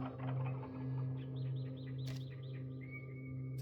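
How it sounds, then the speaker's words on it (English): Blackbirds singing in a video game setting: a short run of repeated bright chirping notes over a steady low hum, fairly faint and unaccompanied by talk. "Oh, listen. The blackbirds are singing."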